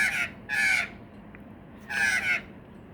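A magpie calls at dusk while feeding, giving two loud, harsh bursts close by, separated by a short quiet gap.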